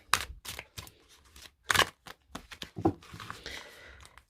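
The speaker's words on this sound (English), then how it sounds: "give them a little shuffle and see how they shuffle" Overhand shuffling of a limited-edition sacred animal tarot deck, a series of crisp papery riffs and slaps in short irregular bursts, close and fairly quiet with no talk.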